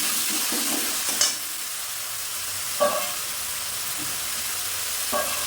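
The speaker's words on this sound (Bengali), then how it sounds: "1 মিনিট পর আবার নেড়ে দিলাম।" Tangra fish curry for a Bengali kalia being stirred in a frying pan: a steady hissing sizzle runs throughout, broken by three brief clanks of the spatula against the pan.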